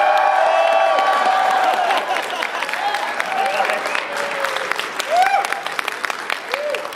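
An audience at a sumo wrestling exhibition at an anime convention claps and cheers loudly, strong at first and then thinning into scattered applause and shouts.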